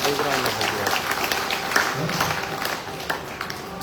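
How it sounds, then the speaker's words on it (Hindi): Applause from an audience at an evening program in Basti, India: a dense, steady patter of many hands clapping under a continuous murmur of talk. "तो जोर से ताली बजाओ"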